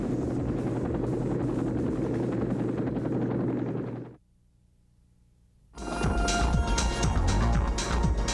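A Sikorsky Sky Crane heavy-lift helicopter from the Vietnam War era thunders with loud, dense rotor chop, drops to a low hum for a moment, then surges back even louder and closer.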